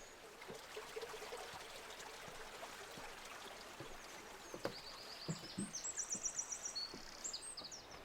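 Water rushes and spills steadily through a calm, mossy forest where rivers run full, a continuous close wash of noise, with a few faint bird chirps and tweets rising over it near the end.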